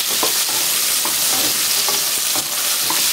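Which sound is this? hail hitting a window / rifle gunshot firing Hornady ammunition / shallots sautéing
shallots sautéing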